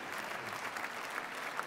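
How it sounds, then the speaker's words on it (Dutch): Audience clapping steadily inside a church after a Christmas concert by the Radio Philharmonic Orchestra ensemble, a fairly faint, even patter of many hands with a few sharper claps standing out, no talk over it. "het applaus geldt voor hen en natuurlijk ook voor het ensemble van het Radio Philharmonisch Orkest"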